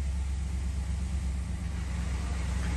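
A 2014 Ram 1500 Outdoorsman with about 99,000 miles idles with a steady, deep, low rumble, close and continuous, with no talk.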